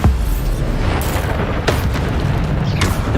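Bombarda blasting spells go off in the Hogwarts Legacy video game, a string of heavy booming explosions over dense rumbling battle noise, with sharp bursts recurring near the start, middle and end.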